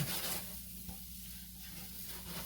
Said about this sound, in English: At this point, we're going to add our rice. We're going to stir this around.